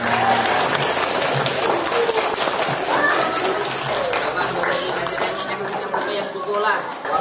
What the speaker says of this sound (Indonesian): Berarti harap seberangan ini berikan tepuk tangan.